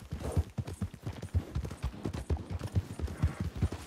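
Horse hooves clip-clopping in a Western roleplay video game set in 1920, a steady rhythmic run of close, hollow hoof beats throughout with no talk.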